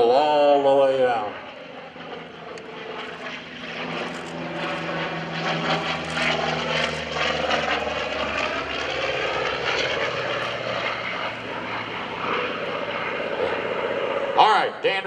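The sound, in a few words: F4U-5NL Corsair propeller aircraft flying at airshow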